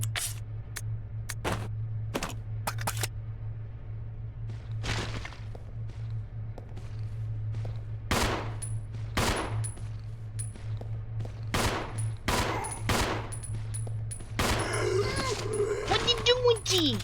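Magnum revolver shots in the survival horror game Resident Evil 0, a string of sharp, loud blasts ringing out at uneven intervals over a constant low game drone, with a person talking in between.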